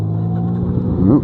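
A Triumph Speedmaster motorcycle converted with a sidecar idles loudly and steadily up close, then its engine note wavers and dies away as it stalls.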